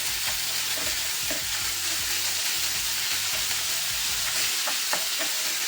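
Tomato paste sautéing in a pan for a green onion dish, a dense continuous sizzle with rhythmic low scraping strokes of stirring, close up and with no talking.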